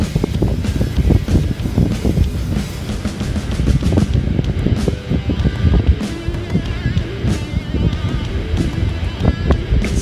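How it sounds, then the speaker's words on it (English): Wind buffets a microphone outdoors during a range test of a DJI Mavic Air 2 drone, producing a loud, continuous low rumbling roar that lasts throughout. "Wind's really coming up on me."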